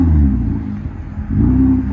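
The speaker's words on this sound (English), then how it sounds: "21 Toyota Camry V6. Muffler delete and vibrant in the middle." A 2021 Toyota Camry XSE 3.5L V6 with a muffler delete and a Vibrant resonator rumbles loudly and steadily up close, its deep exhaust swelling briefly as if revved, with no talking over it.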